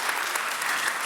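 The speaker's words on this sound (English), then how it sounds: "big round of applause to our amazing keynote speaker, Dr. Shawna." Audience applauding a keynote speaker, Dr. Shawna Pandya, at a World Leaders Forum event: dense, steady clapping from a large crowd filling the whole moment without a break.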